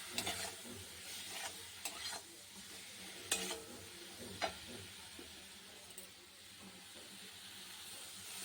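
Chili paste with salt sautéing in a pan for a fish chorchori, a soft sizzle broken by scattered scraping stirs and clicks of a utensil, fairly faint and close.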